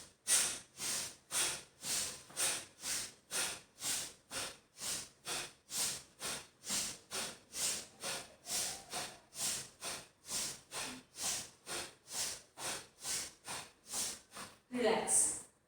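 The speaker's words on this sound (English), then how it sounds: "Breathing in, breathing out." Rhythmic yoga breathing during a power yoga session, about two dozen forceful, hissy exhalations at a steady quick pace, close and clear with no talk.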